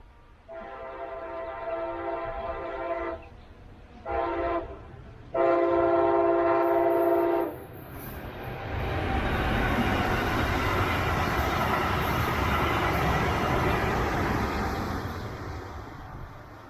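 Brightline higher-speed test train on a 110 mph test run, accelerating from a stop near the Riverview Drive road crossing: three loud horn blasts, then a broad rising roar of the passing train that builds and holds close by for several seconds.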